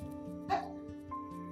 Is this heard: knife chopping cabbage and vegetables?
no